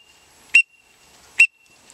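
Two short, sharp whistles from a Sean Mann Drakon duck call used for mallard drakes and wigeon, each a bright, high chirp, evenly spaced about a second apart against near silence.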